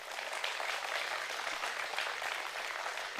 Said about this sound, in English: big round of applause there for Dang